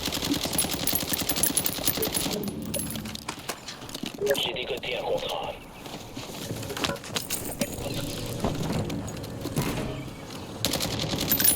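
Automatic and rapid gunfire from a Warzone match sounds in bursts and rattling volleys throughout, mixed with game noise and players talking over it.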